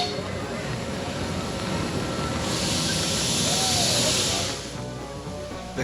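A 24-gauge 4-4-0 steam locomotive pulls passenger coaches around a lagoon at an amusement park, giving a steady rumbling roll with a prolonged hiss of steam swelling midway, while people talk nearby.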